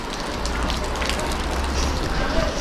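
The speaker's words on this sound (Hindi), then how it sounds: "बारिश से यहाँ पर पार्किंग में झरना बन गया है" Heavy rain pours across a parking area in cold, stormy weather, a dense steady wash of drops and runoff with a low rumble underneath, loud and continuous throughout.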